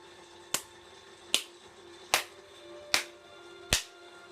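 Sparse, sharp claps from aliens in a Star Trek VI: The Undiscovered Country movie scene, five isolated crisp smacks spaced evenly about a second apart over a faint background hum.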